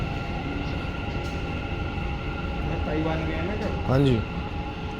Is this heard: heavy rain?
no